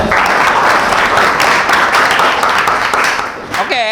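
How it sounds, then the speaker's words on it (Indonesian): Classroom applause for a student during a teacher performance assessment, a steady wash of clapping from a group that carries on for several seconds before a brief voice cuts in at the end. "tepuk tangan untuk Radia."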